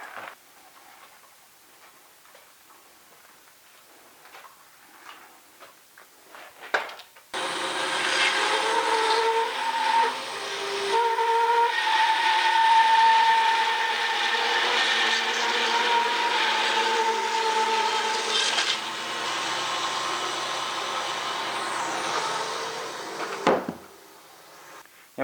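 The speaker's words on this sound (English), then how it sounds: "that cut with the bandsaw that I just did" A bandsaw slices through heavy, hard green bull oak timber in a workshop. After a few faint knocks the blade whine and cutting noise rise loud and steady for about sixteen seconds, then stop abruptly.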